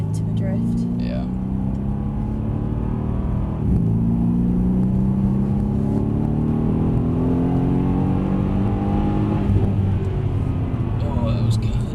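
A Mercedes C63 AMG sedan lapping a wet race track, a loud low engine drone with rising and falling revs heard from inside the cabin while people talk over it.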